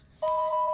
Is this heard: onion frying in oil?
no